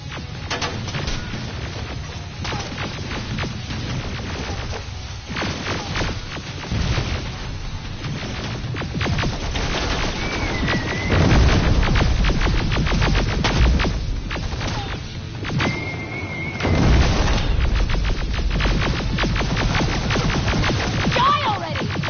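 Heavy blasts and crashing combat noise from grenades in the Terminator Resistance video game, sustained and loud over about twenty seconds, with bursts swelling midway and near the end amid continuous battle din.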